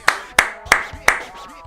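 Four crisp, evenly spaced hand claps from a single person close by, each a sharp isolated slap with a short decay, alone without talk.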